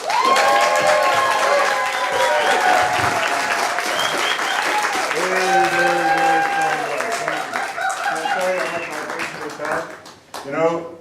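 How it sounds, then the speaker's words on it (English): A stand-up comedy audience applauds and cheers for comedian Bill Maher, dense clapping and crowd noise sustained loudly throughout, with voices and whoops mixed in before fading near the end. "if you guys can make up for my rudeness by clapping extra hard for him"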